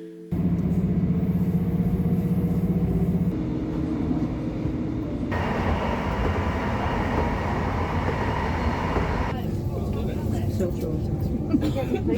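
Inside a moving train, a steady rumbling roar of wheels and carriage noise fills the space, shifting in tone a few times as the ride goes on.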